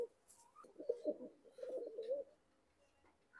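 Kamagar pigeons coo softly and close by in a few low, rolling phrases, with brief pauses between them in an otherwise quiet setting.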